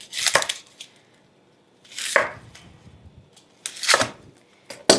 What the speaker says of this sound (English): So for the onions, I'm gonna get those quartered.